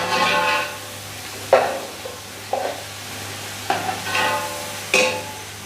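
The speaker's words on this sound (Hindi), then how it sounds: "अब इसमें मैं लहसुन अदरक डालती हूँ" Garlic ginger paste sizzling in a pan of browned onions, a steady low fry broken by several sharp stirring scrapes and clacks of a spoon against the pan, close up and with no talking.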